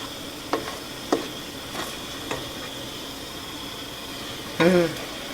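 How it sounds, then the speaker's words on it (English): Christmas jam boils in a pot while being stirred, giving a soft bubbling hiss with a few sharp utensil taps on the pot and a brief scrape near the end. "bring this back to a rolling boil again. It says at this point to stir constantly."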